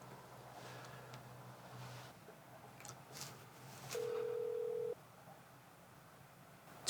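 Telephone ringback tone on an unanswered call: a low steady tone plays, then a brighter one-second beep sounds clearly over faint background noise, with no voice answering.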